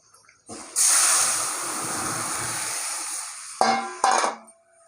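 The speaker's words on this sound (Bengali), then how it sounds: "এখন আমি ডালটা ঢেলে দেবো" Dal poured into hot oil with turmeric gives a sudden loud hiss that fades over about three seconds, followed by two brief sharp sizzling bursts.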